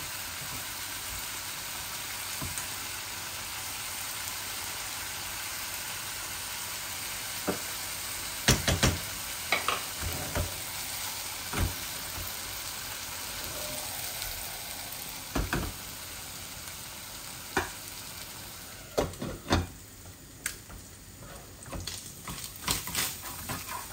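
Food being stir-fried in a pan, with a steady, even sizzling hiss throughout and scattered sharp scrapes and clatters of a utensil against the pan, close and moderate in level.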